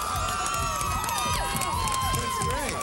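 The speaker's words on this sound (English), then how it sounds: "you had all these chicks cheering for you" Crowd of girls cheering and shrieking for a skateboarder at a skating contest, a steady, loud wash of excited voices, whoops and shouts filling the whole stretch without a break.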